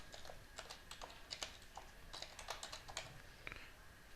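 Steady typing on a computer keyboard while login credentials are entered, a run of quick, light key clicks with brief pauses, fairly faint and close with no voices.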